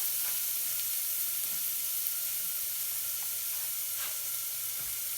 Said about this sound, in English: So we stir around